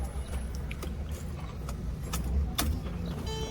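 Keys jangle and click as the ignition is switched on in a 2010 Mercedes GLK 350 that will not crank or start, a few soft metallic ticks up close over a low background hum.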